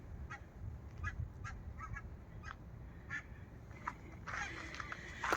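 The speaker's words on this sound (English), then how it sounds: "fly away, little duckies, fly away" Ducks honk and quack in short scattered calls at a moderate distance, heard over steady outdoor walking ambience, with a brief burst of flapping or splashing noise near the end.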